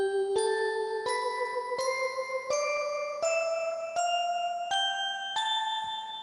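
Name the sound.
electronic organ bell sounds combined with flute stops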